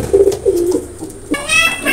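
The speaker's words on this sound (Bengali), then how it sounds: "এক পেয়ার আছে ওমান ব্লাড লাইনের টেডি কবুতর" A pair of Teddy pigeons of Oman bloodline coo up close in soft, rounded bursts, followed by a brighter, higher-pitched sound near the end.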